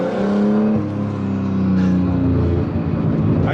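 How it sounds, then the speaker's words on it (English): A rough, long-neglected Nissan R32 Skyline with a small-turbo RB20 engine drones loudly from inside the car, a steady low engine tone with rising and falling pitch and a faint turbo whir over it. "it's just an RB20. It's got the littlest turbo ever, but it just has so much turbo noise"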